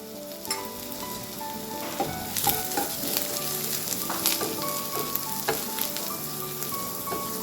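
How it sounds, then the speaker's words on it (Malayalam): Ginger sizzles and fries in hot coconut oil for a curry, a steady crackling hiss with sharper pops and stirring scrapes, fairly close and with no voices. "ഇപ്പോൾ വെളിച്ചെണ്ണ ചൂടായിട്ടുണ്ട് ഞാൻ ഇഞ്ചിയാണ് ഇട്ട് കൊടുക്കണേ"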